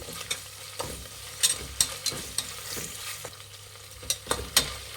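Ginger-garlic paste frying in hot oil with onions, a soft continuous sizzle broken by sharp spoon-scrapes and clinks against the pan every second or so.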